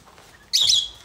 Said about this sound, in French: Ah oui, il est là, le merle.